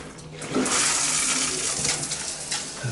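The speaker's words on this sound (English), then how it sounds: "I'm going to shift the camera for a second so that I can turn on the hot water" Hot water runs from a shower head with good pressure in a clean tiled bathroom, a steady broad hiss that builds after a short start and then holds without talk.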